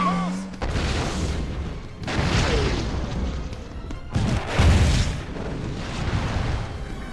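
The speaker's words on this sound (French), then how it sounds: "Ça, c'est ce qui s'appelle une explosion." Big explosion in an action scene: deep booming blasts and crashing debris roll in waves, with bursts of rumble recurring over several seconds under scattered voices and score.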